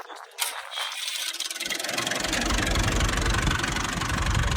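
A small Massey tractor, model MS 240, starts up and settles into a steady, loud diesel drone while driving a maize sheller, running close and constant with no voices.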